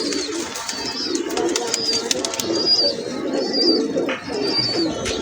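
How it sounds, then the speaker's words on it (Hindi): Pigeons in a pigeon loft coo repeatedly in low, throaty phrases, close and steady, with sharper chirps and faint wing rustles mixed in over a busy background. "कबूतर है जी।"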